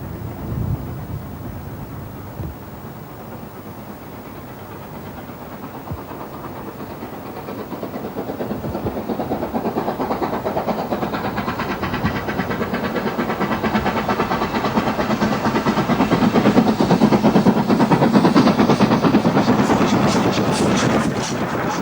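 An LMS Black 5 steam locomotive working a former Highland Railway line, its exhaust chuffing rapidly and growing louder as it approaches, with rumbling wheels and rising hiss near the end.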